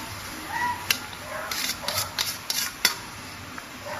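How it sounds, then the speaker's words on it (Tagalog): Vegetables go into a pan for pancit bihon with scattered clinks and taps of a utensil against the pan over a low background, several sharp knocks spaced irregularly. "Yan, ilagay natin ang mga gulay."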